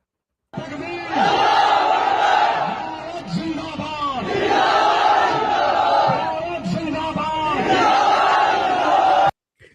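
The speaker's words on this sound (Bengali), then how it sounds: "সেখানে মুসলিমরা সম্পৃক্ত হয়েছে নারায়ে তাকবীর স্লোগানের মাধ্যমে" A large crowd at a student protest chants the Nara-e-Takbir slogan in loud, rhythmic waves of many shouting voices, the call and response repeating several times before cutting off abruptly.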